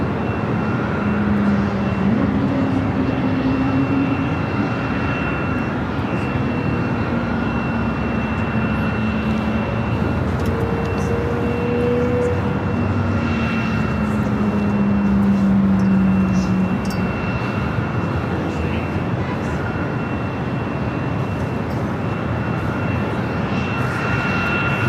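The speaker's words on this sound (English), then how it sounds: "So we have Aer Lingus taking off for Dublin on the south side, rolling down 25 right." An Aer Lingus airliner bound for Dublin takes off on runway 25 right at LAX, a loud, sustained jet engine roar with whining tones rising and shifting across the whole stretch, heard alone.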